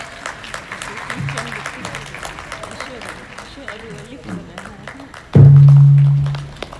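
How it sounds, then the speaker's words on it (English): Audience applause at a book launch event, moderate clapping under murmuring voices and talk, ending abruptly as a loud sustained feedback-like tone cuts in and fades. "please more, clap some more"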